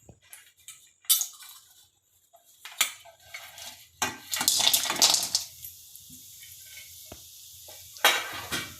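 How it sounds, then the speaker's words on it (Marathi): Asafoetida, turmeric root and nutmeg warming in oil in a pan, with intermittent metal spoon scrapes, clinks and stirring, soft sizzling between louder bursts, close up and without talk. "आता आपल्याला हिंग, हळकुंड आणि जायफळ तेही तेलामध्ये थोडं गरम करून घ्यायचं आहे."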